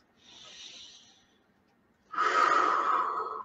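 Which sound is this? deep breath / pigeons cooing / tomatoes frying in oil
deep breath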